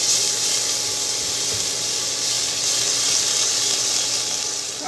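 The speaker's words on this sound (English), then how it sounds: "we're going to saute these around for about a minute or so, just until they start to soften and they become fragrant" Ginger, garlic and onion sautéing in a pan, a steady loud broadband sizzle that holds evenly throughout with no voices over it.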